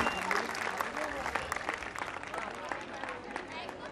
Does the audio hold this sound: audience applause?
yes